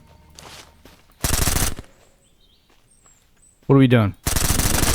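Radian gun in the video game SurrounDead firing two loud automatic bursts, the first short and the second longer, separated by a quiet stretch, with a brief spoken question just before the second burst.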